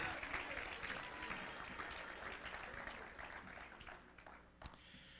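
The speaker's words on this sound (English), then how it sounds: "Clap your hands one more time." Church congregation clapping hands together during a worship service, a steady dense patter of many hands throughout that tapers slightly toward the end, with a few voices mixed in.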